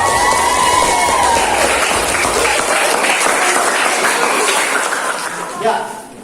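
Classroom applause from students for the top-scoring group in a school physical education lesson on long jump, a steady dense wash of clapping and crowd noise that fades near the end.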